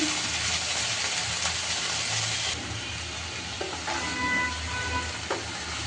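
Okra fries in a pan over very low heat, a steady close sizzle that holds throughout, with a few faint clinks and stirring scrapes along the way.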